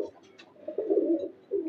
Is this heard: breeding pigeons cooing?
yes